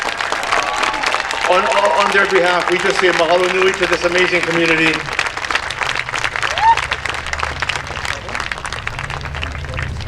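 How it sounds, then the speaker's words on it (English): A crowd at the Hōkūleʻa welcome ceremony in Aquatic Park Cove, San Francisco, applauds the voyaging canoe crew as they take their seats, steady clapping running beneath someone speaking over a PA before fading near the end. "Another round of applause for our crew as they take their seats."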